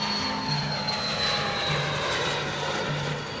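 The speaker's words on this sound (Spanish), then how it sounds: "Este es el sonido de un avión" The steady drone of an airplane engine, a constant propeller hum with a faint whine, heard continuously and fairly close.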